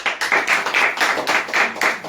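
A church congregation in Hoshiyarpur, Punjab claps in a steady rhythm, about eight sharp, evenly spaced claps that ring out clearly with no talking over them.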